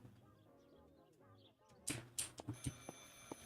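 A telephone rings in the mystery video game Marta is Dead, sharp bright rings and clicks in quick succession after a short stretch of talk, fairly loud and close.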